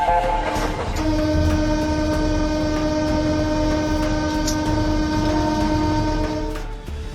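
A train sounds a long, steady horn over heavy rumbling and grinding as it brakes hard after striking a flock of sheep, the loud drone holding for several seconds before easing slightly near the end.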